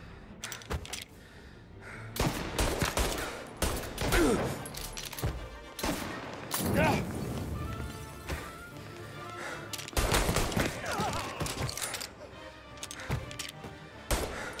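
Gunfire in the Mafia Definitive Edition video game, with bursts and single shots scattered across the stretch, mixed with game sound effects and thuds, moderately loud.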